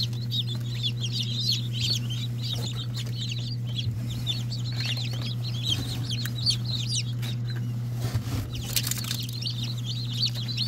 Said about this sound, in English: He's still a pretty cool little chicken.